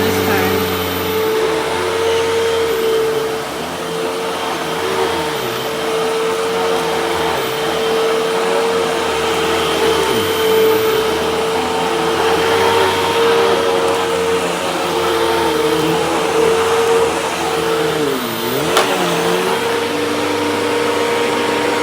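A Hoover vacuum cleaner runs steadily and loudly for the whole stretch, its motor drone holding a constant pitch, with debris going into the canister and only small wavering dips in tone.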